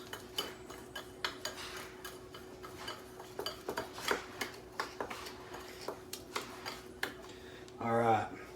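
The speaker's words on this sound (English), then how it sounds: "We're going to mix that together and get kind of a somewhat of a uniform consistency." A utensil taps and scrapes around a bowl while garlic and chili pepper seasoning is mixed, giving irregular light clinks over several seconds, with a brief louder rattle near the end.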